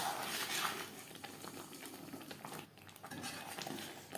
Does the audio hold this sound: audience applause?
no